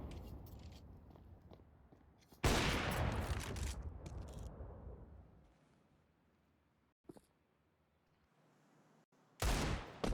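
Counter-Strike match gunfire from rifles and pistols, including an AWP and Desert Eagles: a loud burst of shots around the middle fading out, with quieter scattered shots and another loud burst at the end.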